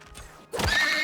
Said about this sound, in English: Oh, we've got a horsey.